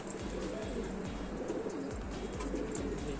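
A racing pigeon coos in soft, repeated low throaty calls, close by, over a steady background hum.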